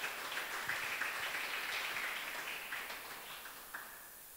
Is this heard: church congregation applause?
yes